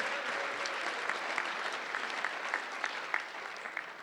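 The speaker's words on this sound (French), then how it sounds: "Vous avez le droit de l'applaudir." Sustained audience applause at a small-business awards ceremony, a steady, fairly soft wash of many hands clapping with no voices over it.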